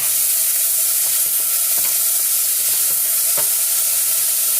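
Rice toasting in a hot pan for cheese risotto: a loud, dense, continuous sizzle and hiss up close, with a few light scrapes of a spoon stirring the grains.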